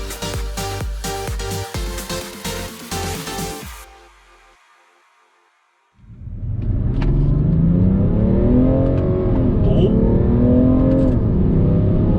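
A BMW 335d M Sport diesel car accelerates hard, a loud, steady engine roar building continuously after a brief quiet gap, preceded by music.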